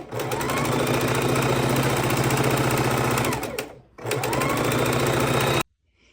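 A sewing machine runs fast, chain stitching quilt pieces in two steady rattling bursts separated by a short pause, then stops into near silence.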